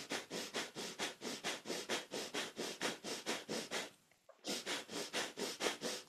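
Rapid rhythmic breathing from a kundalini yoga heart-centre kriya: about sixteen sharp, even nasal breath pulses, close and clear, then a brief pause before the pumping rhythm resumes.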